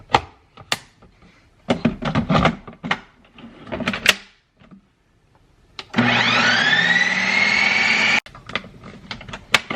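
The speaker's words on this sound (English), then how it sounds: "And then I'm gonna pop this back on and spin it again on light ice cream." A countertop ice cream machine spins a frozen low-carb almond milk dessert, starting with scattered clunks and knocks, then a loud steady whirring motor run of about two seconds with a rising whine before more handling clatter.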